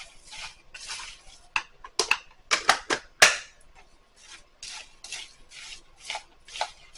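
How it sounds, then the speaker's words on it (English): Apple pieces tossed with vanilla and a cinnamon blend in a bowl, a spoon clicking and scraping against the sides in irregular bursts, close and fairly quiet with no talking. "And you just mix this all together, get all the apples coated in it, and the mixture."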